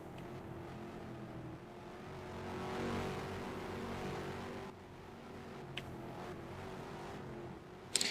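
Sports car engine in a racing video game holding a steady drone through a hairpin corner, with rising revs, a brief dip as it lifts off and a few short mechanical clicks near the end, continuous and fairly close.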